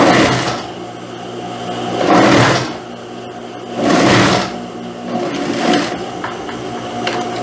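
Sewing machine stitching the front and back yoke of a dress, loud rapid mechanical whirring in three bursts separated by quieter pauses with light handling clatter.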